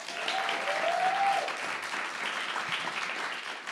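A live-stream audience claps to vote for theme music, a steady wash of scattered clapping sustained for several seconds at moderate level, slightly distant, with no talking.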